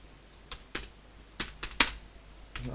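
Typing on a new computer keyboard: a handful of sharp, separate key clicks spaced irregularly across a few seconds, fairly close and moderately loud, with no talking.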